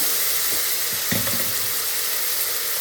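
Tomato sauce poured into a hot pan of kabsa masala for Arabic egg kabsa, a steady close sizzle with a brief wetter burst of crackling near the middle as the liquid hits, no voices.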